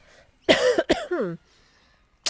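A single loud, close cough bursts out in a couple of harsh pulses, trailing into a brief throaty sound before quiet returns.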